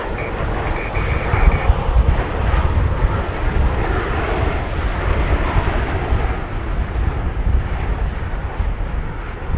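Air Canada airliner passing at Edmonton International Airport, a loud sustained roar of jet engines that holds steady throughout, heard alone without speech.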